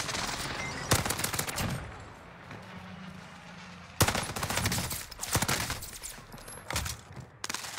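Heavy automatic gunfire in a video game comes in rapid bursts, loud and punchy, with quieter gaps between volleys.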